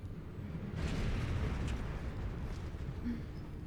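Cannon fire and explosions in Final Fantasy XIV roll out as a dense, booming rumble during an attack on an airship. The blasts swell after the first second, then stay at a steady roar without any voices.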